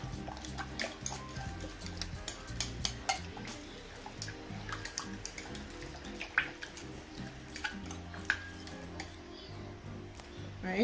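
Boiled potatoes being mixed with seasoning in a bowl, soft clinks and scrapes of a utensil against the dish ticking irregularly, fairly close and quiet.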